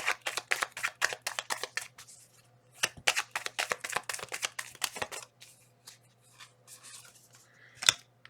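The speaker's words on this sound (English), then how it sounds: "Two more shuffles." A deck of tarot cards shuffled at close range in quick bursts of crisp riffling flicks, pausing around the three-second mark and then tapering into scattered lighter card taps, with a faint steady hum beneath and no talking.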